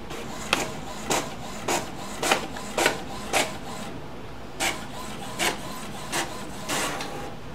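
An HP Officejet Pro 8620 inkjet printer runs a print job, its carriage swishing back and forth in regular, evenly spaced passes over a steady mechanical hum, loud and close.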